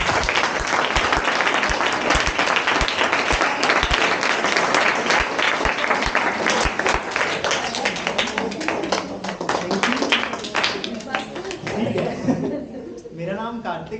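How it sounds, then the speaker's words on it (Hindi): Sustained loud applause from an audience at an AI workshop event, steady clapping that continues for many seconds before thinning out near the end, with some chuckling mixed in. "अब मैं आप सबको रिक्वेस्ट करूंगा एक बार दोबारा जोरदार तालियों के साथ"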